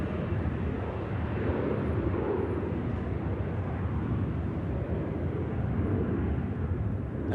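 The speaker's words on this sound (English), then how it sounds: "Embraer E175 for a change." Embraer E175 airliner at Manchester Airport, a steady broad jet engine roar heard from a distance, continuous and even in loudness with no talk.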